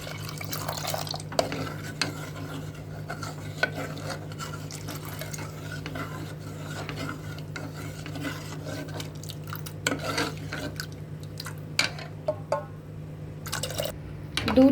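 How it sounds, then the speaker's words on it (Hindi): Milk poured into simmering Kashmiri-style dal in a pot while it is stirred, giving steady soft stirring and scraping with faint liquid drips over a constant low stove hum, no talking. "दूध गर्म हो गया तो अब हम इसमें दूध डाल रहे हैं और साथ साथ मिक्स करते जाएंगे"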